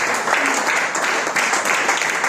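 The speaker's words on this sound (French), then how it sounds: "Si tu crois, applaudis encore très fort pour la gloire de Dieu." A church congregation at a Sunday worship service applauds loudly, dense sustained clapping from many hands throughout, close and full.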